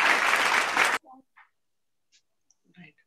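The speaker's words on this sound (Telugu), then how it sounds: "ఓకే, స్నేహిత్ కి క్లాప్స్." Children clapping together for a boy named Snehith at a children's club session, a dense burst of claps for about a second that cuts off abruptly, followed by faint scattered clicks and brief voices.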